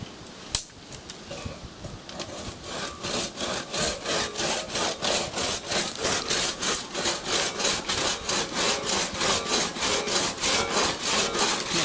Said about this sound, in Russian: отпиливаем.